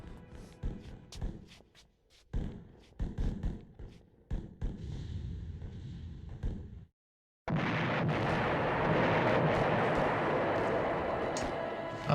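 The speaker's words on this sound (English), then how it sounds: "We hear the shelling of what's going on outside" Outdoor artillery shelling in Eternal Darkness, first as scattered heavy thuds and booms, then after a brief silence a sustained loud roar of bombardment rumbling continuously, with no talking.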